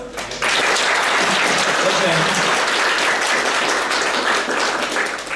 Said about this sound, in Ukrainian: привітати оплесками тих людей, які зголосилися з міста Києва прибути сьогодні до нас